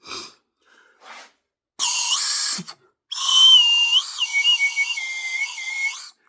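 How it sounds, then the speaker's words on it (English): A homemade slide whistle plays two shrill bursts, the second longer with its pitch sliding up and down in wavering glides, loud and close, after a few faint taps and rustles. "But all in all, a little slide whistle."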